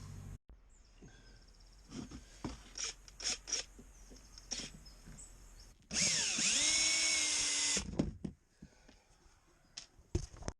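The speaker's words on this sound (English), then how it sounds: "Okay, I've got all the screws up" A power drill drives screws into the side of a cabin where trim has lifted away and leaks. One loud, steady whirring burst of about two seconds stands out among scattered nearby knocks and handling clatter.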